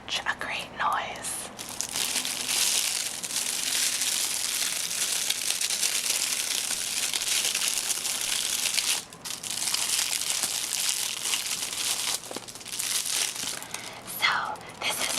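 Crinkly plastic packaging around a Persona Q video game is handled close up, a continuous loud rustling and crackling that pauses briefly twice, with soft whispering at the start and end.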